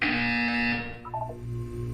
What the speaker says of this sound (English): You will hear a buzzer. When you hear the buzzer, look up at the ceiling.